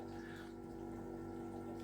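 A pump pushing water into a brewing mash for an Irish red ale, a faint, steady low hum with a constant liquid rush and no talking.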